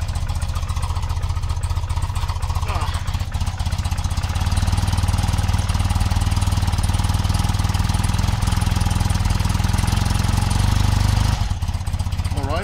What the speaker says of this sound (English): let's try to rev it up a bit.